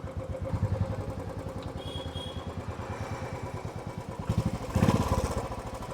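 A Royal Enfield Bullet 350 Classic engine with a knocking fault runs steadily nearby, its rhythmic thumping beat mixed with metallic clatter, swelling briefly louder as it revs near the end.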